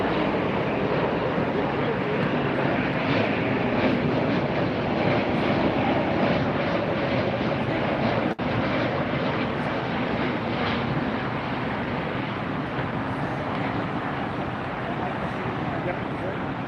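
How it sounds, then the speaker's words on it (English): A Lufthansa Airbus A380 comes in to land at LAX with a loud, steady broadband jet roar that holds without a break from start to finish. "there's a good look at the Lufthansa A380"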